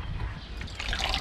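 Fermented fish sauce poured into boiling termite mushroom soup, a brief close liquid trickle and splash over a bubbling simmer.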